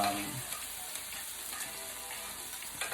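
Chicken and shrimp pad thai sizzles steadily in a hot pan, a continuous close hiss of frying with faint stirring clicks and no voices.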